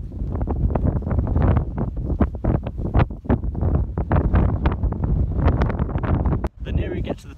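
Strong gusty wind buffeting the microphone on a steep volcano path, loud rumbling roar in uneven bursts throughout, with a sudden brief drop near the end.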